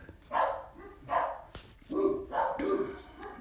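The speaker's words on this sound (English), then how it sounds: "my dog's decided to bark at the UPS man" A dog barks at a UPS delivery driver, letting out four or five moderately loud, slightly muffled barks in a loose, uneven rhythm.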